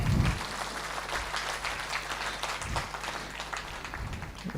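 An audience at a humour club mimicry event applauds a performer, a soft steady patter of many hands clapping for several seconds, fairly distant and faint, with a voice briefly heard.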